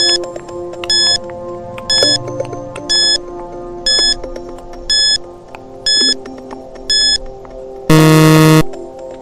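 A quiz countdown timer ticks with regular high electronic beeps about once a second over a soft melodic background, then ends in a loud, sustained buzzing alarm tone.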